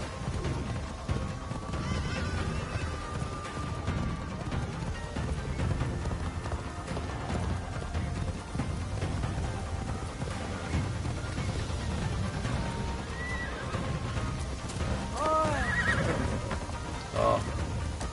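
A horse in the Assassin's Creed Shadows video game snorts and whinnies over a continuous patter of galloping hooves during riding, with a few sharp neighs toward the end and someone speaking at times.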